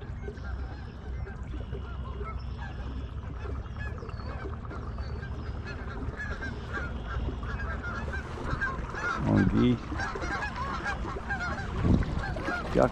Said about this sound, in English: Ducks on ducks.